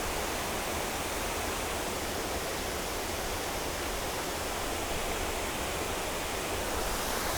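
A steady, dense roar of falling water, broadband and unbroken throughout, with no voices.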